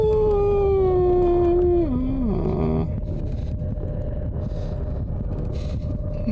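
A dog howls in the Call of Cthulhu video game, a long, loud, wavering howl that slides downward and fades out, leaving a steady low ambient drone from the game.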